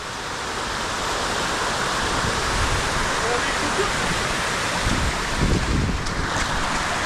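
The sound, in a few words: mountain waterfall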